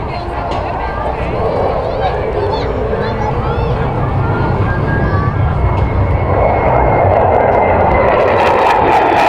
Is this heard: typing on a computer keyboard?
no